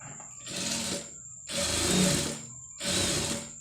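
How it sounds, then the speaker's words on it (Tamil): A sewing machine stitches lining beside invisible-thread piping in three loud, close whirring bursts with short pauses between them, and no voices. "இப்போ இதை வந்து கரெக்டாக அந்த பைப்பிங்கில் இல்லாமல் லைனிங்லேயே வந்து தையல் போடணும்."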